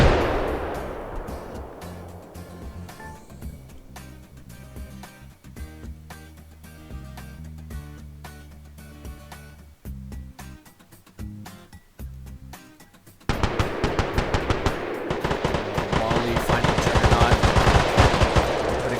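Rapid automatic gunfire from the video game Stalker Reforged during a Node Wars match: loud, dense volleys of shots with short gaps, turning into a heavier, continuous barrage near the end, with no talk.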